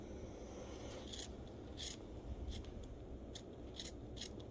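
Sharp, repeated snips of scissors cutting craft paper for a Valentine's Day project, arriving in short irregular bursts over a steady low room hum, close and fairly quiet with no talking.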